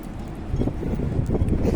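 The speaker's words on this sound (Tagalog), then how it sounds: "May hangin." Steady low wind rumble buffeting the microphone outdoors at Tseung Kwan O Sports Ground in Hong Kong, continuous and fairly loud with gusty swells throughout.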